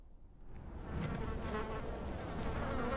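Flies buzzing in the Xbox game Armed and Dangerous, a steady swarming drone that swells in after a quieter start and holds loud and close, with no voices.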